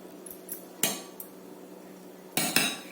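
A spoon mixing salt and Kashmiri red chilli powder in a bowl for lemon pickle, giving a few sharp scraping clinks spread apart, with two louder clusters of metal-on-dish knocks near the end, alone without talk.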